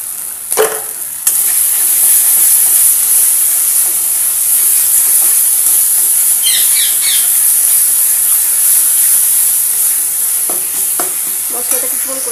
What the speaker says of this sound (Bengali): মশলাটা কিছুক্ষণ কষিয়ে নেব।